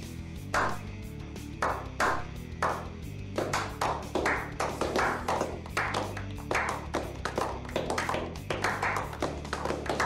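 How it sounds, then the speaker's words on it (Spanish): Bursts of hand clapping, sparse at first and then quicker and more regular, ring out over a steady musical backdrop to honor the Volkswagen Voyage sedan. "Un aplauso para este auto."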